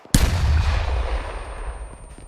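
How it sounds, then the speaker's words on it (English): A rocket launcher fires during a military field training exercise: one sudden loud close blast followed by a long rumbling roar that slowly fades over two seconds. "Rocket, rocket, rocket."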